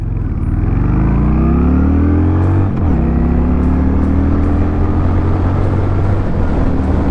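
A Honda Shadow 750 cruiser motorcycle pulls hard from a standstill up to highway speed, its loud engine note climbing in pitch, dropping at a gear change near three seconds, then rising again close by.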